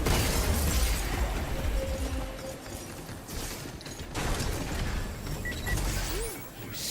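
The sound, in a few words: gunshots in the video game Pragmata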